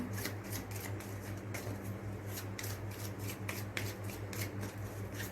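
Tarot cards being shuffled by hand, a steady run of soft papery riffles and flicks, close and quiet, with a low background hum and no talking.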